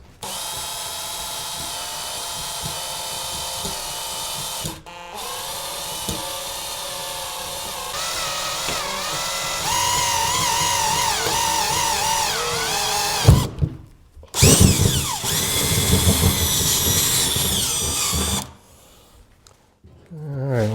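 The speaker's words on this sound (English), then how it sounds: "I've got the 3/8 drill bit, and hopefully that'll be the right size" A power drill fitted with a 3/8 inch bit bores through a car roof for an antenna mount, whining loudly and steadily in long bursts with a few brief pauses, shifting pitch as the bit bites into the metal.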